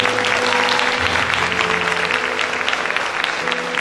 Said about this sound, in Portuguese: Vou dar um aplauso ao Senhor Jesus.